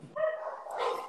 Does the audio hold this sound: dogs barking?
yes